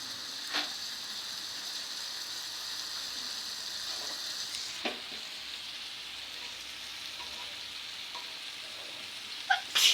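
Masala fries in a pan for a shahi egg korma, a soft, even sizzle with a few faint stirring scrapes and a sharper clatter at the very end.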